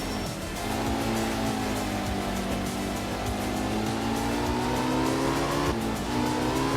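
A car drifts through a sharp right-angle turn in a racing video game, its engine holding a steady loud whine that rises slowly, with tires squealing under it and a brief dip near the end.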